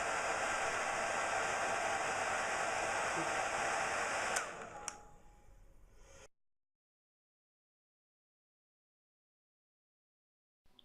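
An electric hairdryer runs with a loud, steady broadband blowing roar for about four seconds, then shuts off and its motor winds down into silence.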